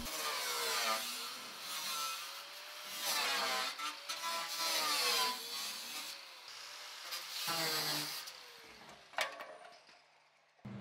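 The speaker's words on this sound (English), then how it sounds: "we can just move right on and cut this outer floor section out and the B-pillar" Power cutting through the sheet metal floor section of a C10 truck cab: a loud, close, whining grind in long passes with short breaks, its pitch wavering as the tool works through the metal.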